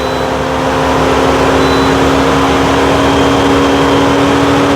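A 2010 Mercedes SLK300 engine idles loud and steady with a constant droning hum and faint whine, close and unbroken, no talking.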